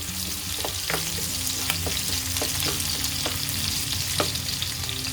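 Fennel seeds fry in hot oil with a steady, dense sizzle for a beef roast, while a spoon scrapes and stirs through them in several short, irregular strokes, close and fairly loud, with no talking.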